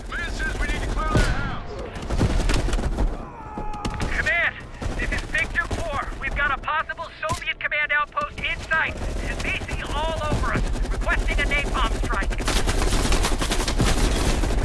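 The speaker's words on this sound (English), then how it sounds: "You readied your sniper rifle to assist." A sniper rifle cracks amid wider gunfire in the Call of Duty Black Ops Cold War campaign: scattered shots and bursts over a battlefield bed while voices speak over the top.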